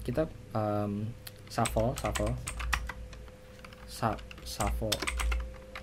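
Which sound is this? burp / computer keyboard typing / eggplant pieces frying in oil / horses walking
computer keyboard typing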